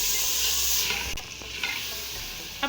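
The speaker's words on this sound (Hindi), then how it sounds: "इसमें डाल देंगे टमाटर, लहसुन अदरक का पेस्ट, आलू डाल देंगे, नमक, लाल मिर्च का पाउडर, हल्दी डाल देंगे और अच्छी तरह से मिक्स कर लेंगे" Onion, tomato, potato, ginger-garlic paste and spices sizzle steadily in a pan while a spoon stirs and scrapes through them, with a few brief clinks near the end.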